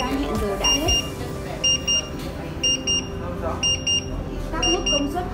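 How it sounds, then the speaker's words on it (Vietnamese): The timer alarm of a Bosch PUJ631BB2E induction hob beeps in repeated pairs of high electronic tones, mixed in with ongoing background sound. "Chuông báo hiệu kêu cho biết thời gian hẹn giờ đã hết."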